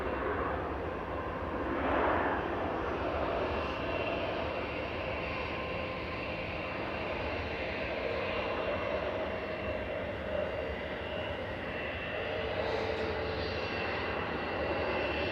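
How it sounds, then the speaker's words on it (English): An Airbus A320 Classic jet departs Manchester Airport, a steady broad engine roar held at a distance with faint swells, and no one talks over it. "Departing in parallel is OYKAP, A320 Classic, heading back to Copenhagen"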